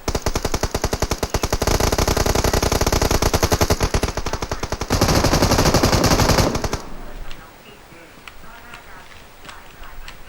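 Rapid automatic gunfire rattles loud and close in a video game as an enemy shoots from a prone position, a dense burst running several seconds before cutting off into quieter background shots.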